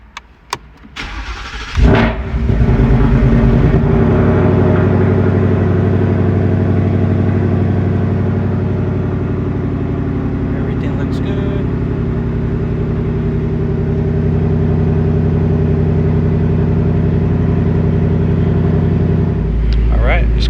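A 2018 Ford Mustang engine with a Whipple supercharger cranks and roars to life, then settles into a loud, steady rumbling idle with slight revs before cutting off at the end.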